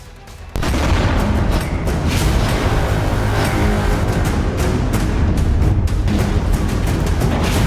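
Gunfire from across the Pakistan border into residential areas of frontier districts rolls on continuously, a dense loud stream of booms and cracks with no clear pauses, heavy and close-sounding with no speech.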